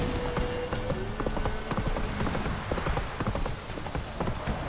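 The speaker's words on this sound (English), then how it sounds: "Proper downpour this is." Heavy rain pours down in The Witcher 3 game world, a steady loud downpour hissing over surfaces, with horse hooves clopping through it in a scattered rhythm.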